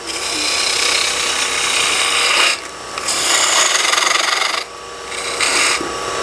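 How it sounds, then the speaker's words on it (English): A 1/2 inch spindle gouge shapes a wooden box spinning on a lathe, a loud continuous rasping cut that breaks off briefly twice and resumes, close up with no talking. "I'm going to go ahead and start shaping my box just a little."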